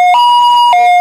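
A loud, close ambulance siren wails in a two-tone pattern, alternating high and low pitches, arriving at the scene of an acid attack.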